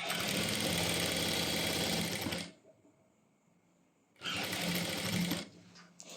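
A sewing machine stitches pant fabric in two steady runs, the motor whirring loud and continuous, dropping to near silence for a moment in between before starting up again; no one speaks.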